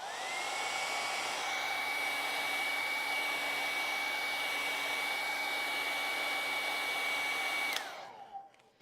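A hair dryer blows steadily to dry acrylic paint on a landscape painting, a loud close whine holding constant for about eight seconds before switching off and spinning down.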